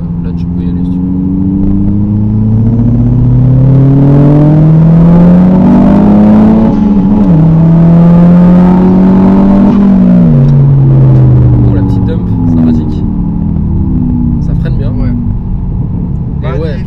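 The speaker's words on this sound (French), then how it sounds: "Le turbo qui charge à 4000, on l'entend vraiment beaucoup" A high-mileage VW Golf 5 GTI accelerates hard with a loud, close engine note that climbs steadily in pitch, dips briefly at gear changes, then fades slightly toward the end.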